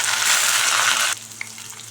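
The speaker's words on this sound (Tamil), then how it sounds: "ஒரு 100 கிராம் சின்ன வெங்காயம் கட் பண்ணி வச்சுருக்கேன், அதை சேர்த்துக்கலாம்" Small shallots hiss and sizzle in hot oil for chicken gravy, a loud, bright frying burst that drops suddenly to a softer, steady sizzle with a faint clink.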